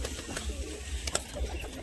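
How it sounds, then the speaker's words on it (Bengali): Pigeons feeding on chickpeas on the ground coo softly at close range, with faint pecking and scuffling clicks scattered through the steady low murmur. "ছোলা দিয়েছে, হালকা ছোলা খাচ্ছে পায়রাগুলো এখন"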